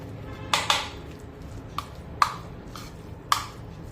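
A spoon stirs carrot salad with curd in a bowl, giving a handful of sharp, separate clinks and taps against the dish spread over a few seconds, close by and fairly quiet.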